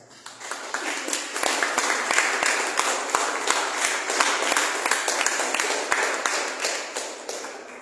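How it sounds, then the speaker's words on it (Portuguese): A church congregation breaks into applause, a dense, even patter of many hands clapping together close by, holding steady for several seconds before tapering off. "Dê uma salva de palmas."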